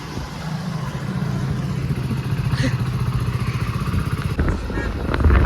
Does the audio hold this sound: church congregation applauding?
no